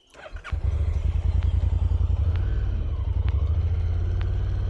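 A Honda NC750x motorcycle pulls away and rides on, its engine rising from a start into a steady, throbbing low rumble, close and constant, with faint road and wind noise and no talking.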